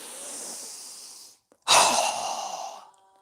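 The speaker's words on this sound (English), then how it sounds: "So go ahead and inhale. Strong exhale." A strong, forceful exhale during a yoga breathing exercise, heard close up. A softer breath comes first, then a short pause, then a loud, rushing breath out through the mouth that trails off.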